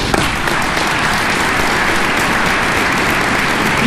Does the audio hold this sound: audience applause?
yes